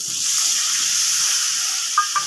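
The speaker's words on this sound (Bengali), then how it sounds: "এর মধ্যে আমি অ্যাড করবো 1 বাটি মতো জল" Water poured into fish curry masala for chital fish kalia, a steady close hissing gush over about two seconds, followed by two brief clinks near the end, no talk.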